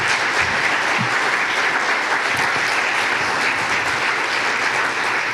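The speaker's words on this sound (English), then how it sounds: "You can applaud for the candidates" Sustained audience applause at a community candidates' night in Wolfeboro, a dense steady wash of many hands clapping close and loud throughout, with no break.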